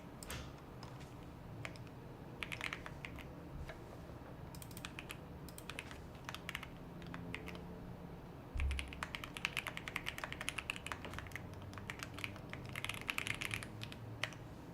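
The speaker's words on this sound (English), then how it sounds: "W keyboard sounds." Someone types on a computer keyboard during a coding session, quick irregular bursts of clicking keystrokes with short pauses, close and fairly quiet, with no talking.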